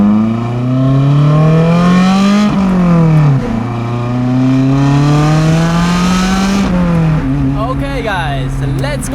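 A Lotus Elise sports car drives along, its engine note close and loud, climbing through gears with clear pitch rises and drops at each shift and a dense road rumble underneath.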